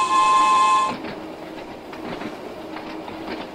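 An underground train running on rails on the Island Line in Train Sim World, heard at night: a steady electric whine breaks off into a low rumbling roll with faint rhythmic clicks of wheels over track joints.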